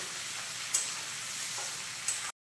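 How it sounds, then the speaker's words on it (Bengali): Prawns frying in hot oil give a steady close sizzle with two brief sharper pops breaking through, then the sound cuts off abruptly. "আমরা দিয়ে দিচ্ছি চিংড়ি মাছগুলো হালকা লাল করে ভেজে নেব।"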